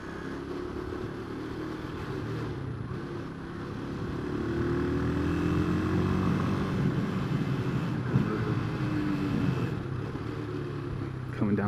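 Motorcycle descending a steep hill in second gear on a road in Yemen, its engine a steady close drone with shifting tones, overlaid by wind rumble; a rider talks intermittently over it.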